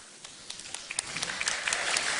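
Studio audience at a stand-up comedy show claps in a brief burst of applause that starts sparse and quickly thickens into a steady patter of hands.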